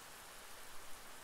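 Steady broadband hiss of rain pattering on the camera lens in Bramble: The Mountain King, a dense, even wash with no distinct drops standing out, faint and close.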